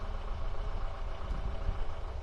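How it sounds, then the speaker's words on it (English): A neighbor's ice cream truck with a troubled engine runs at a low, steady rumble, revved slightly to check it. The sound comes from nearby, with no talk over it. "The neighbor just come with the ice cream truck and the truck like giving the problems"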